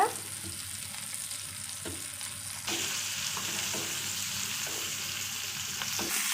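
Onion pieces frying in oil in a kadai, a steady close sizzle with occasional stirring clatters, growing slightly louder midway, no talking.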